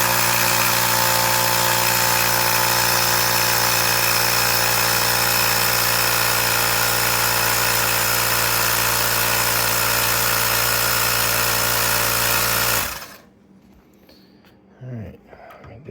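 A 2009 Mini Cooper R57 turbocharged engine idles with a steady, close hum and fixed harmonics for about thirteen seconds, then cuts off abruptly into near silence with faint handling noises.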